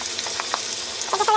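Chicken wings salted and laid in a hot pan, a close steady sizzle with a few soft knocks and a rising clatter near the end.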